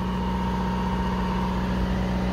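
An Onan DJC generator idles under a light electrical load, giving a steady, continuous low engine hum with a constant mechanical drone and no talk.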